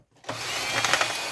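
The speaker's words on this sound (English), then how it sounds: "Now, 20 screws to take out for the alley." A power screwdriver spins up to a steady whirring drone, close and fairly loud, as it backs screws out of a scrap electrical appliance, a short burst with no talking.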